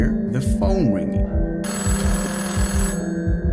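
A telephone rings insistently in the Threshold of Awakening video game, a repeating electronic trill layered over dense low game music and ambience.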